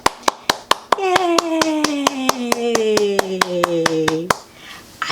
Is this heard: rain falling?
no